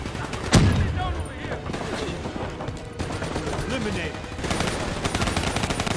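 Automatic gunfire and explosive bursts from the Black Ops 3 campaign, a sharp loud blast near the start followed by dense, continuous rattling fire and battle noise throughout, with a voice speaking over it.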